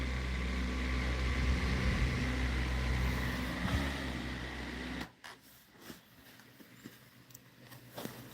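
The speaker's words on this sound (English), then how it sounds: "this is the motor noise for Mavic 3" DJI Mavic 3 drone motors spinning up for takeoff, a steady close whirring hum with high tonal whine that runs for about five seconds, then cuts abruptly to quiet handling noises.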